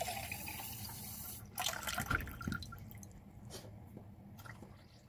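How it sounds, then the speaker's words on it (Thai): A little water is poured into thick homemade tomato sauce for pasta: a brief, faint splash and pour midway, followed by soft drips and a quiet background. "เราก็จะเติมน้ำสักเล็กน้อยเนา"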